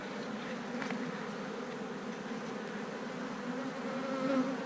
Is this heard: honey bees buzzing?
yes